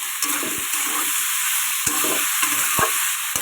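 Leafy greens sizzle steadily in a hot pan, with a spatula scraping and stirring in repeated strokes and a few sharp knocks against the metal; no one speaks.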